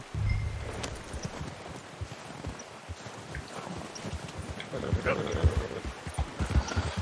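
Horse hooves clip-clop in an uneven rhythm at moderate distance in Red Dead Redemption 2, with occasional speech and low ambient noise.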